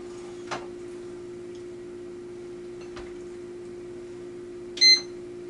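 A kitchen timer goes off during home baking of bread rolls: one short, high electronic beep burst near the end, after a few faint ticks over a steady low hum.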